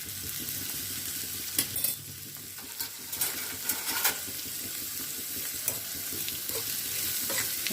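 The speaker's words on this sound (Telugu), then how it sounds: "నూనె తగ్గనే ఉల్లిపాయ పచ్చిమిరపకాయ వేసుకోవాలి" Chopped onion and green chillies fry and sizzle steadily in hot oil in a pan. The hiss is continuous and close, and intermittent stirring scrapes and clinks break through it.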